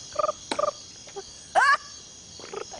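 A person's voice imitates chirping crickets with short, repeated trilled bursts and a rising rolled-tongue squeal, loud and close with brief pauses between.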